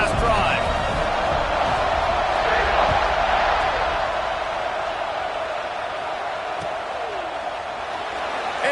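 Dense, sustained roar of a packed football stadium crowd after a touchdown, a steady loud wash of noise with a voice talking over it.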